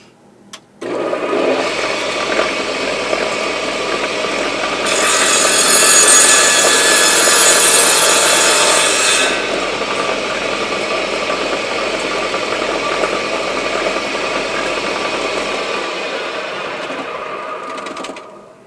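Table saw blade whines steadily through a pallet wood plank set an eighth of an inch deep, a loud continuous buzz that grows harsher mid-cut before settling back to a running hum.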